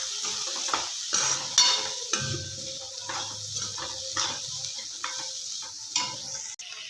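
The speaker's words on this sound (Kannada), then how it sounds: "ಇವಾಗ ಹುರಿದಿಟ್ಟಿರೋ ಕ್ಯಾಪ್ಸಿಕಮ್ ಹಾಕ್ಕೊಳ್ಳೋಣ. ಚೆನ್ನಾಗಿ ಮಿಕ್ಸ್ ಮಾಡ್ಕೊಳ್ಳೋಣ." Roasted capsicum being stirred and mixed in a pan for capsicum palya, with scraping spatula strokes and a soft background sizzle, fairly close and steady without speech.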